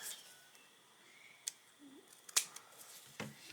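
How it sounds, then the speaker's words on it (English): Scissors snipping paper while making a handmade Christmas card, a few sharp, quiet cuts spaced apart in an otherwise hushed room. "I'm going to cut that little extra off again."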